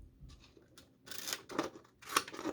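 Japanese-made Engineer P55 non-serrated scissors cutting, giving a few crisp snipping crunches in close succession, quiet and near, with no talking over them.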